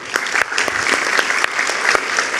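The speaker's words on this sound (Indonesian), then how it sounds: "kita berikan tepuk tangan dulu" Steady applause from a crowd, dense clapping throughout with a few sharper claps standing out, no talking.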